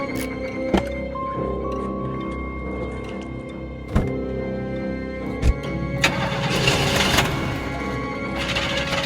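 Car engine starting up under a sustained droning hum, punctuated by a few heavy thunks as doors slam, with rising whirring bursts near the end.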